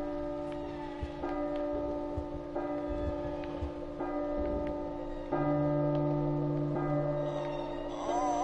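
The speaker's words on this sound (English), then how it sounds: "And there's the bell." A bell rings in the P.T. video game, with steady tonal ringing held over a dense droning background that swells and shifts in places, louder in the later part.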